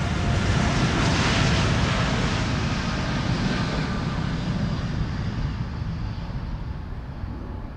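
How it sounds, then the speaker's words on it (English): An Air Canada jet departs Amsterdam Schiphol for Montreal, its broad, steady engine roar loud and close at first, then slowly thinning and fading as it moves away. "this is Air Canada flight 901 to Montreal"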